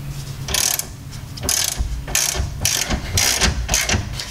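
A ratchet fitted with a 14 mm socket works a camber arm bolt loose on a car's suspension during a 3-arm camber kit install. It clicks in several rapid, close bursts with short pauses between strokes, and no talk.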